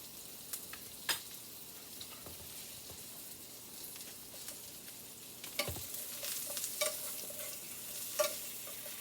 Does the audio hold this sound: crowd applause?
no